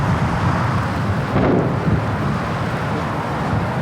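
Roaring storm wind in Six Days in Fallujah, a steady loud broadband rush that swells briefly mid-way and carries on without pause.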